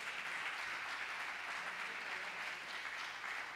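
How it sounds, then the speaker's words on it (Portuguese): A congregation at a church service claps in sustained, dense applause that stays steady and fairly loud throughout, with no voices standing out. "dá um aplauso"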